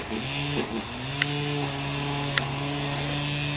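A string trimmer cuts a lawn across the street, giving a steady, droning buzz from a distance that runs without a break, with no voices.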